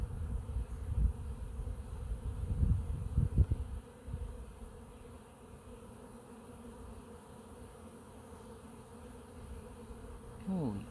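Dense honey bee swarm buzzing around a large, busy hive, a continuous close hum with louder swells as individual bees pass near, a single bee's pitch sliding at the end.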